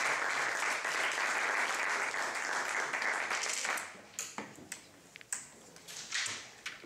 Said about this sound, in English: Crowd is almost like a tennis-like atmosphere with the applause after every round